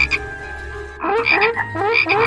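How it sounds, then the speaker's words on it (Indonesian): Cartoon frogs croak in a quick, lively run of repeated calls in an animated Bible story about the plague of frogs filling Egyptian houses, close and fairly loud with no talking. "Lalu Tuhan memenuhi rumah orang Mesir dengan katak."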